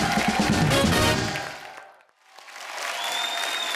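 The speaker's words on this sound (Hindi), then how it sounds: "एक बार हमारे सब प्लेयर्स के लिए जोरदार तालियां।" A comedy show's studio audience bursts into loud, dense applause for the cricket players, then the clapping fades briefly to near silence before swelling again, with a faint tone sustained over the returning crowd noise.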